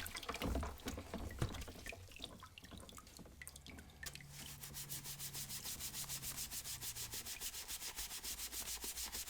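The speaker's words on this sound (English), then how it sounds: "You can see just from the hot water and soap and paintbrush here how much clean is able to happen just from a little bit of scrubbing" A paintbrush with soap and hot water scrubs the plastic shell of a Super Nintendo SNES Jr. console, starting with uneven rubbing and wet splashes, then settling into a fast, steady back-and-forth brushing rhythm.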